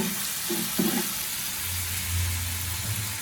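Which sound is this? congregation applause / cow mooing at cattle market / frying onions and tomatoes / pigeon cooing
frying onions and tomatoes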